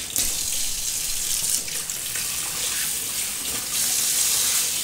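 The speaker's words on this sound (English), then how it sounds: "I use my second part of my sink and a bit of water," Tap water runs steadily into the second basin of a kitchen sink, a loud, close, continuous hiss and splash that never lets up, with no voices.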